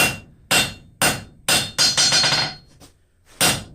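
A hammer strikes a railroad spike tong jaw on an anvil to flatten it, giving a quick series of loud, ringing metallic blows, some close together, with a short pause before a final strike.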